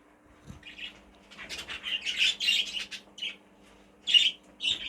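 A young cock bird gives short chirping calls close by in a quiet setting, a few scattered notes followed by a louder burst of squawks and two more calls toward the end, over a faint low hum.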